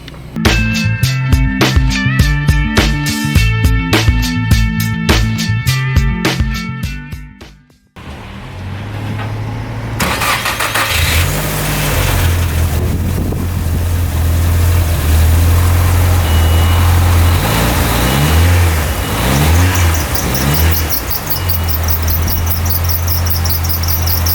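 Nissan 200sx S14a with a misfire: a loud electronic beeping pattern first, then a short dip to near silence around eight seconds, and the engine catches and runs steadily with an uneven, lumpy low drone for the remaining sixteen seconds.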